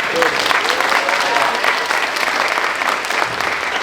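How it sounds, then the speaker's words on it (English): Theatre audience applauding in a dense, continuous wash of clapping at steady loudness, with no voices standing out. "please give them a round of applause"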